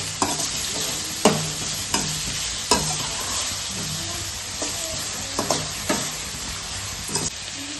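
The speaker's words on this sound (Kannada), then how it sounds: "ಈರುಳ್ಳಿ ಸ್ವಲ್ಪ ಗೋಲ್ಡನ್ ಬ್ರೌನ್ ಆಗೋ ತನಕ ಸ್ವಲ್ಪ ಫ್ರೈ ಮಾಡ್ಕೊಳ್ಳಿ" Onions and green chillies fry in a pan with a continuous sizzle, punctuated by repeated spatula strokes that clack against the metal every second or so.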